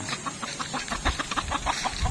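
A talisain gamecock with a cold clucks in a steady run of short, repeated calls over a busy, noisy background, fairly close by.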